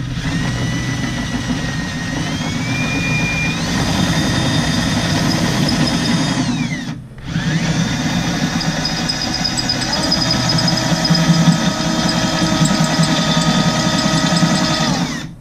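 A power drill runs steadily at low speed while drilling during an ATSV brake upgrade, its motor whine loud and continuous, dipping briefly near the middle before spinning back up for the rest of the stretch.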